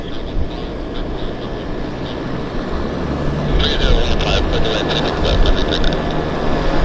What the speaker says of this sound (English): we've got another aircraft arriving here